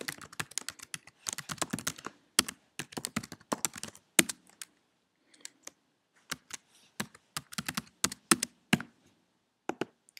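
Fingers type on a computer keyboard while filling out a web sign-up form, close and dry clicks in quick bursts separated by short pauses.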